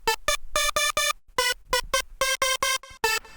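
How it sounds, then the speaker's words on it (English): A layered wavetable synth lead for classic hard house plays dry with no processing, punching out a bouncy rhythm of short, bright, buzzy stabs that are loud and close. "Now, just straight out of the synth, they sound like this."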